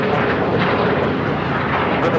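A Viva Aerobus Airbus A320 rolls at LAX, sending out a steady, loud jet-engine roar. The roar is broad and unbroken and sits behind overlapping voices.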